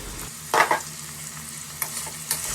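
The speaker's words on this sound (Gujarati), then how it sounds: "આ રીતે ચમચા વડે ચલાવી લેવાનું" A spoon stirs Surti kantola vegetable curry cooking on a low flame, giving a few close scraping strokes over a soft, continuous sizzle.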